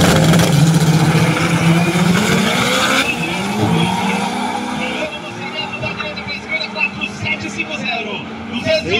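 A drag racing car does a burnout at Interlagos, its engine roaring over loud, sustained tire squeal that fades into a rougher, fluttering rumble, while an announcer talks over it.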